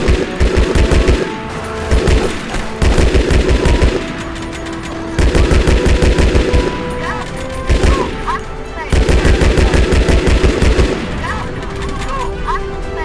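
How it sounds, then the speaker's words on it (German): Gunfire in the video game Red Ocean during a boss fight, with repeated rapid bursts of automatic shots and booms in loud rhythmic volleys, plus someone talking. "Schüsse."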